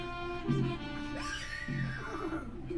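A woman imitates a horse's neigh with a convincing whinnying call that rises and falls over a couple of seconds, heard against a steady background hum.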